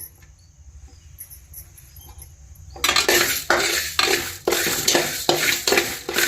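Two spoons of fenugreek seeds roasting in a pan, quiet at first with faint background, then a loud run of rhythmic scraping stir strokes and crackling sizzle, close and steady, with no talk.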